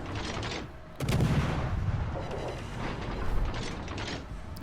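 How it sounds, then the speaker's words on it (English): Naval artillery shells fired from a warship in World of Warships Legends, a sudden deep boom followed by sustained rumbling battle noise with another swell of low thunder. "We're hitting the island with some of the shells."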